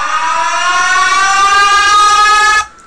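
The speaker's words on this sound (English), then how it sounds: "like the siren" A siren sound effect from DJ software rises and holds as a loud, steady tone with dense stacked harmonics for more than two seconds, then cuts off abruptly, with no voices over it.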